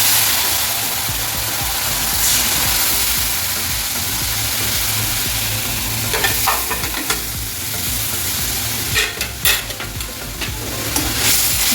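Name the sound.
spice powders frying in a pan for paneer curry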